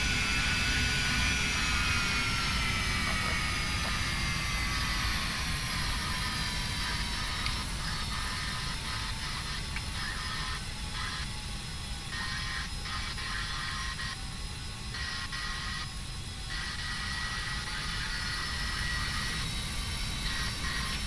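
Embraer Phenom 300 business jet on a takeoff run in FSX flight simulator, a steady loud whining jet roar with a broad rumbling hiss that holds constant throughout, no voices.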